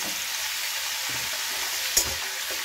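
Pumpkin and potato curry with turmeric and salt frying in a pan, a close, steady hissing sizzle with one sharp utensil knock as it is stirred.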